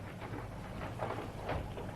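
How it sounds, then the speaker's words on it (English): Rain sound effect for a radio drama, a soft, steady patter with faint rumbling underneath, low in level and continuous, with no voices. "It's not raining so hard now."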